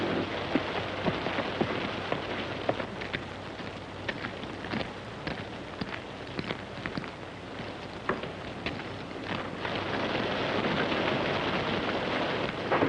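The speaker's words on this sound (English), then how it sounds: "Not much use looking for till this storm blows over." A heavy rainstorm pours steadily with dense pattering drops, broken by sharp cracks and low rumbles of thunder, loud and continuous for several seconds.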